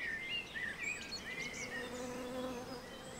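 Bees buzz steadily around apple trees in full spring blossom in Central Europe, a continuous droning hum with a few faint bird chirps in the background.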